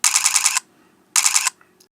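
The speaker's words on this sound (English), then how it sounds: "C, a film shutter sound," Nikon camera set to its film shutter sound option gives two dense, rattling mechanical bursts, the first about half a second and the second slightly shorter, close-up and alone in a quiet room.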